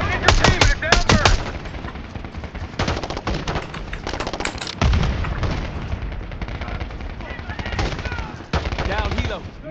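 Heavy automatic gunfire in a Call of Duty Black Ops 6 campaign firefight: dense, rapid bursts of rifle and machine-gun fire, loud and close, with brief pauses and booming impacts and voices mixed underneath.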